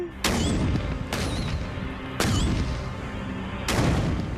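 Explosions blowing up a xylophone: several loud, sharp blasts in quick succession, each followed by a rumbling tail, up close and with no clear talk between them.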